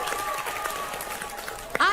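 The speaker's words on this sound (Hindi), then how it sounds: "जोरदार तालियां।" A studio audience at a televised competition show applauds, a busy clapping texture running under the host's loud, animated speech before a sharp burst of louder cheering at the end.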